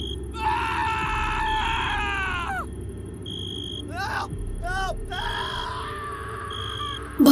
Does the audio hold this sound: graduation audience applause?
no